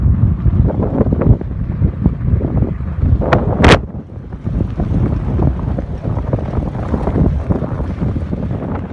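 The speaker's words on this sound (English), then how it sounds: "I've been pretty much fighting a headwind the whole day" Strong headwind on a fatbike ride along the White Rim Trail, loud constant buffeting and roaring against the microphone, with a brief sharp rattle partway through and no talking.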